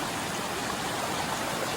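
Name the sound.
small mountain waterfall stream flowing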